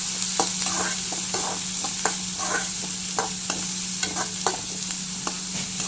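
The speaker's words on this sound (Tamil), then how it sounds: "ஆனியன் நல்லா கோல்டன் ஃப்ரை ஆகட்டும்." Steady sizzling of onions frying golden in a pan, with soft repeated stirring scrapes at an irregular rhythm, close and moderately loud.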